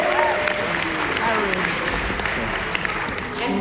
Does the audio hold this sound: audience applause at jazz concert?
yes